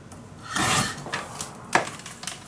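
Scissors or a blade cutting folded paper for a Lavender Hills mini album craft, with a sustained rasping cut followed by a few shorter snips and scrapes, close and fairly quiet with no talking.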